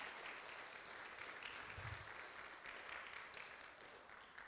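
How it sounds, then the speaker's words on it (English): A church audience claps an amen, a faint, steady patter of many hands with no voices. "it's okay to clap an amen"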